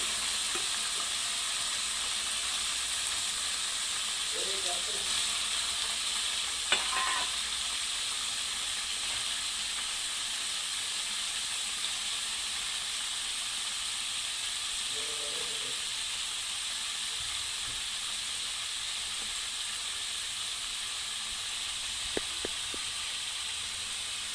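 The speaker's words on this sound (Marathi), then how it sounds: "तर हे पनीर आहे, आपल्याला थोडं हलकं एकदम ह्याला रोस्ट करून घ्यायचं आहे" Paneer lightly roasting in hot oil gives a steady, even sizzling hiss, close and continuous, with a few soft clinks of handling and no talk.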